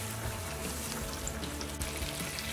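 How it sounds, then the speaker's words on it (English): Meatballs browning in a frying pan give a steady, dense sizzle and crackle, close and continuous, with no talk. "we're just gonna cook them until they're brown on all sides"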